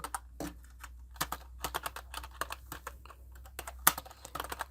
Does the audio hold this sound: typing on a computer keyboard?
yes